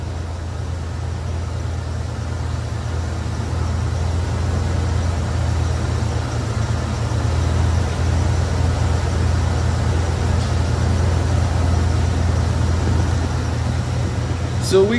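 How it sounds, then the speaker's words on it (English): A car's 305 engine idles after a jump start, a steady low rumbling drone that holds at an even, fairly loud level without revving. "So we gonna leave the car running so it can try to go ahead and charge the battery."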